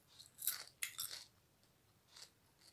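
Crunchy paruppu vadai, a lentil fritter, bitten and chewed close up, with a few sharp crisp crunches in quick succession followed by a fainter one, no talk.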